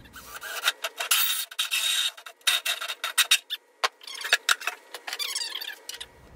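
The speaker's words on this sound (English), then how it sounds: "I got a hole saw here at 60 millimeter. I've gotta cut a hole out for this PVC adapter" A 60 mm hole saw cuts through the side of an electrical box, giving bursts of harsh rasping and grinding with short pauses between strokes, close and fairly loud with no talking.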